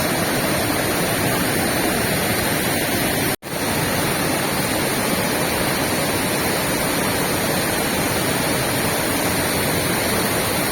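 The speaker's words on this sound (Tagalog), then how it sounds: "Ito yung upper falls." The upper falls of Mahencha Falls roar as a dense, continuous broadband rush of falling water, loud and close, with a brief dropout partway through and no voices.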